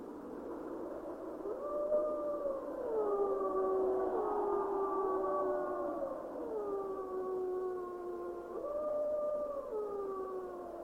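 A pack of northwestern Canadian timber wolves howls in the timber, with several long overlapping howls gliding up and down in pitch and sustained continuously at a moderate distance.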